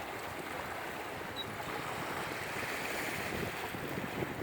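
Choppy water slaps and splashes around an O'Day 25 sailboat on the Hudson River, a constant wash of wave noise with gusting wind across the microphone, fairly faint and continuous.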